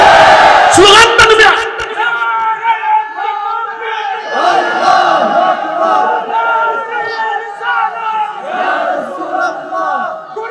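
A large crowd at a religious sermon in Bangladesh shouts slogans in loud, rhythmic bursts, many voices roaring together and rising and falling in waves, with a leader's voice calling between them.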